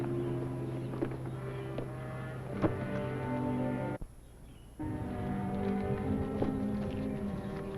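Horses' hooves clip-clop at a frontier lodging house in the American West, a steady uneven clatter of several animals close by, with a brief near-silent gap midway before the hoofbeats resume under a low background hum.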